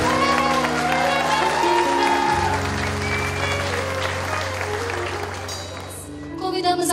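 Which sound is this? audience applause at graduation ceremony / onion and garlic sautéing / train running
audience applause at graduation ceremony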